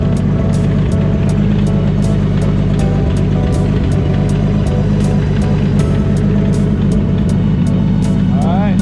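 A turbocharged BMW E46 M3 with a V-band turbo kit idles steadily in a garage while the cooling system is bled, a loud constant low rumble with rhythmic ticking above it.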